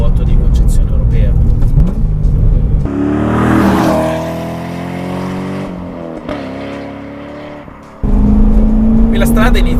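A Corvette C6 accelerating along a damp road, engine note climbing in stepped harmonics through the gears, loud and close inside the car, with someone talking over much of it.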